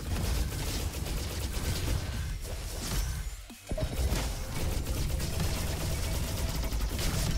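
Rapid weapon fire from the video game Roboquest, a loud, continuous stream of crackling shots and whooshing energy bursts, with a brief break in the middle before the fast firing resumes.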